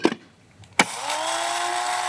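An electric coffee grinder whirs steadily after a couple of sharp clicks, its loud, even motor drone holding a constant pitch through to the end.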